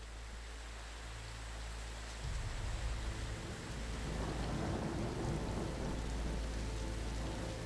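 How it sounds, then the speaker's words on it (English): Heavy rain pours steadily through a wet-season tropical thunderstorm, with low rolling thunder swelling partway through and the downpour growing denser and louder, no voices. "During these massive storms, Bertha hunkers down to wait out the worst."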